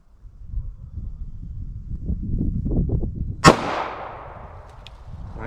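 One sharp, loud 9mm pistol shot firing a Winchester Ranger T-Series 147-grain round for a ballistics gel test. A fading echo follows, after a low, rumbling, wind-like background.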